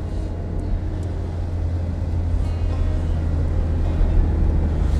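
A Dacia Logan MCV cruises in fourth gear at about 60 km/h, giving a steady, even low engine drone and road rumble heard from inside, with no talk.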